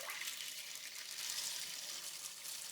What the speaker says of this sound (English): And then you're just going to cover them completely with water.